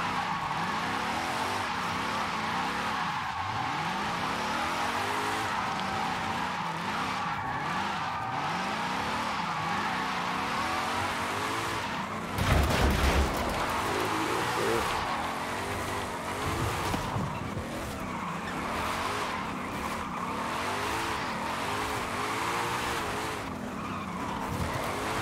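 A car drifting in Forza Horizon 5, with a continuous tire skid and squeal over a revving, wavering engine that rises and falls throughout, plus a brief louder burst midway.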